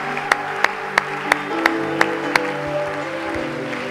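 A church congregation claps in unison to acclaim God, with about seven crisp, evenly spaced claps ringing out over sustained music before the clapping fades into the musical background.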